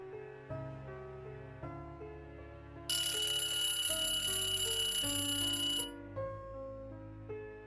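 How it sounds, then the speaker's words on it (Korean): A loud electronic alarm clock rings in a horror radio drama, a bright dense tone bursting in for about three seconds over an ongoing musical background, then cutting off while the music continues. "박 형사는 시끄럽게 조절되는 알람 소리에 못 이겨 몸을 겨우 일으켜 세웠다"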